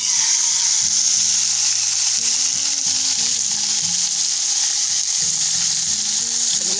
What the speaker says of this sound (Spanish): Ahorita vamos a empezar a freír nuestra carne para ponérsela a los chilaquiles.